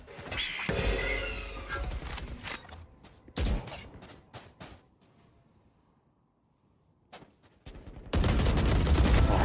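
Gunfire from the Bulldog rifle in Valorant during a professional esports match, with loud sharp bursts of shots and scattered single cracks, a quiet gap, then a dense sustained volley at the end.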